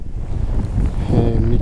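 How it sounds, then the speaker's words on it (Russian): A blizzard's strong wind roars and buffets the microphone in a low, constant rumble through the short stretch. "метет, и ветер сильный дует"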